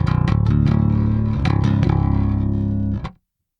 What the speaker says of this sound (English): This is just going through as if I was going straight DI into a power amp going into the Mesa 412.